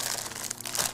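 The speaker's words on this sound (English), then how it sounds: "opening a bag of chips" Crinkly plastic packaging of a foreign bag of chips rustles and crunches as someone handles it while opening it, close and continuous for about a second.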